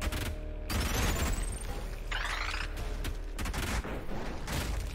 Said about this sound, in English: Use the new and improved laser cannon.